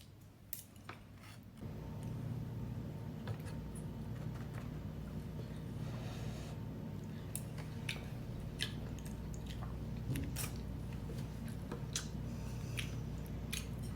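Close, wet chewing and biting of paper-wrapped fish with onions, soft squishy mouth sounds repeating steadily over a low background hum, no talking.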